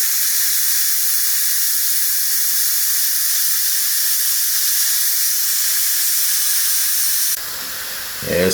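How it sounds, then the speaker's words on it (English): Steady, loud hiss of steam venting from a Power Pressure Cooker XL cooking Southern-style cabbage, continuous for about seven seconds before dropping to a quieter hiss and then a brief rustle at the end. "I'm gonna go ahead and release the steam now."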